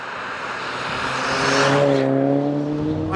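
Saab 9000 Aero engine revving hard up to the rev limiter, a loud, close, rising harmonic whine that climbs steadily and then holds at the top, with no talk over it.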